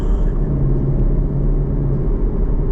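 A Chevrolet Camaro with an LT1 engine rumbles steadily while driving, a loud continuous low drone with road noise and no talking.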